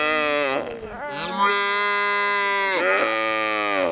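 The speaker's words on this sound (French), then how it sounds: "Ça va de se poser avec les petits veaux dans le champ." Cattle and young calves moo in a field in Normandy, with several long, loud, close bellows in a row and short pauses between them.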